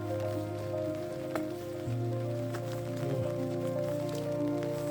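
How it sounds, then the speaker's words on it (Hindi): Steady monsoon rain falling on a surface in Kasauli, a constant patter under a low hum, with no talking. "तो नॉन स्टॉप रेन हो रही थी।"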